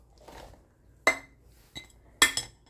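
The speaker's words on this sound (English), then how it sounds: "Now I'll dump in the meat and onions and all the juice that came out of it, which is fine, and the mushrooms" Meat, onions, their juices and mushrooms for beef stroganoff being scraped from a dish into a cooking pot, giving a few sharp clinks and knocks of utensil on cookware with soft shuffling between, close and intermittent with no talking.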